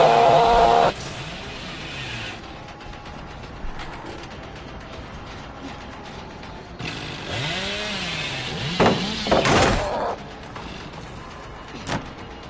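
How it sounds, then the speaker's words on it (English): Chainsaw revving in the horror game Dead by Daylight: a loud, rough buzzing burst at the start, then a longer surging rev with rising and falling pitch sweeps, trailing off into quieter background noise. "As soon as I rev my chainsaw,"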